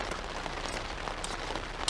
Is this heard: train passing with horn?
no